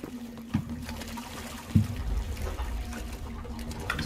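Water trickles and dribbles in the Generation Zero video game, a soft, steady liquid gurgle with a low hum and a couple of brief thumps, fairly quiet and without voices.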